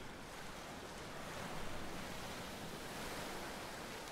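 Steady roar of ocean surf washing around a swimmer in Ghost of Tsushima, a dense, continuous wash of breaking water with slight swells in loudness and no voices.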